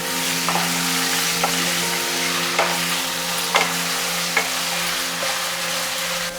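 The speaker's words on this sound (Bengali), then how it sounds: "এরপর আমি দিয়ে দেব চিকেনগুলো। দিয়ে ভালো করে তাড়াতাড়ি নাড়াচাড়া দেবেন।" Chicken pieces stir-fried quickly in hot oil for chicken fried rice, a loud continuous sizzle close by with regular clacks of a spatula tossing the pan every second or so, no voices.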